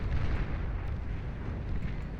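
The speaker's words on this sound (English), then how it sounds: "we'll see those good old-fashioned T3 Hellspitters firing away with their Hellfire out towards the very well-equipped blue player here" T3 Hellspitter artillery batteries fire in the real-time strategy game Beyond All Reason, a continuous loud rumble of overlapping booms and blasts with no clear gaps between shots.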